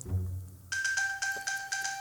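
An iPhone plays its locate ping chime, triggered from an Apple Watch: after a moment of quiet, a bright electronic tone repeats in evenly spaced pulses, moderately loud and close, with no talking.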